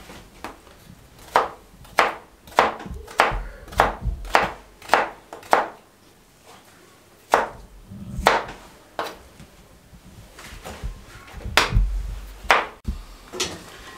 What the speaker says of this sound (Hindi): ये आलू काटने के बाद